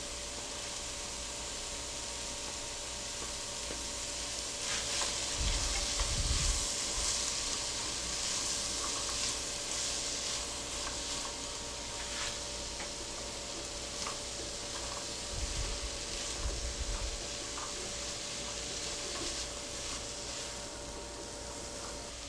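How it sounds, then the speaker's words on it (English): Diced vegetables sauté in a pan for a vegan Bahamian chowder, giving a continuous soft sizzle with occasional stirring scrapes and low thumps, steady and moderately close without talking. "So in goes the rest of my diced vegetables for a nice little saute."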